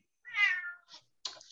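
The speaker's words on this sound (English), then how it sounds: "Cat agrees." A domestic cat gives a clear drawn-out meow followed by two shorter chirping mews, close and distinct in a quiet room.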